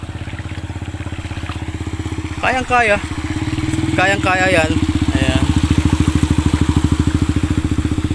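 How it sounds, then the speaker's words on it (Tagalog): A motorcycle engine putters steadily and close by on a flooded lakeside road near a boat terminal, rising slightly as it moves off. A person talks briefly over the engine noise. "Ayan yung motor"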